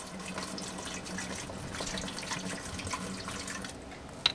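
Water, about a quart, splashes and trickles into a metal cooking pot with a steam basket, a steady pouring sound with small drips and a faint clink at the end, no voices.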